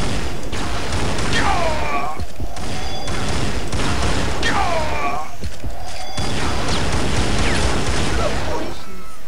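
Bot combat in the Unreal Tournament Game of the Year Edition tutorial, with repeated bursts of weapon fire, sweeping energy-shot whines and impacts over a constant dense game soundscape.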